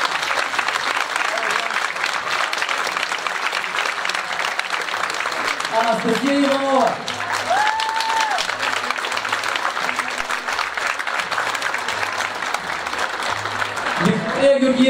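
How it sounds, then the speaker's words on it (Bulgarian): Steady, loud audience applause runs without a break for students at a school play staged by a vocational high school in Pernik. A voice reads out names over the clapping. "моля за вашите аплодисменти"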